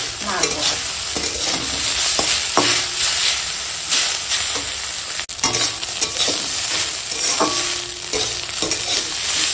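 Tender banana stem with sugar is stirred in a frying pan: a constant sizzle under repeated scraping spoon strokes against the pan, loud and close, with no talking.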